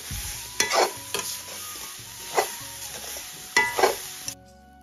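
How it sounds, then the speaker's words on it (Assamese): Sweetened coconut filling for palm-fruit pitha frying in a pan, several distinct scraping stirs over a faint background sizzle, close and fairly quiet, ending abruptly in silence. "তো এতিয়া আকৌ ভাজি গৈ আছো"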